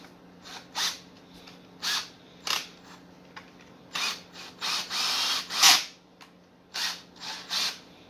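A Ryobi cordless drill runs in short bursts at different speed settings, roughly eight separate whirring pulses of varying length, one longer run in the middle, close and clear with no talk.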